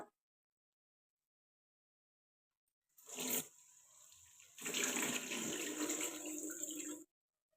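Tap water running while a face is washed: silence, then a short burst of running water, a lower trickle, and a fuller steady splashing stream before it cuts off.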